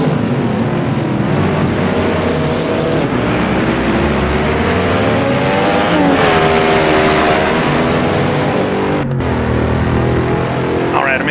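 A 1959 Corvette SCCA race car in the Assetto Corsa game drives at Marlboro. Its engine drones loud and steady, and the pitch climbs and falls through the gear changes under a constant hiss.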